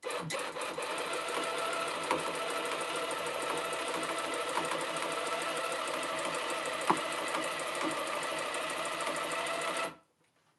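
Sewing machine running steadily at close range during rug making, a fast continuous mechanical whir and chatter for about ten seconds before stopping abruptly.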